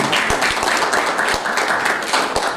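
An audience at a political parties dialogue applauds a party's chief whip with dense, continuous clapping, a few sharper claps standing out near the front, sustained and fairly loud throughout with no talking.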